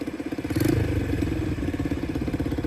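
Motorcycle on a motorcycle exam course in Seyhan, Adana, its engine puttering with a rhythmic mid-pitched pulse that rises briefly as it speeds up, then settles, fairly close, with no talk.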